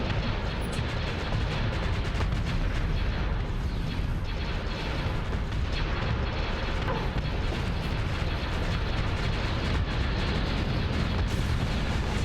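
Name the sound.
spaceship guns firing in the video game Starsector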